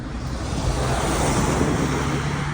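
Steady, broad wind rushes against the microphone on an overcast day on Monster Road, a continuous roar with no pauses and no voices.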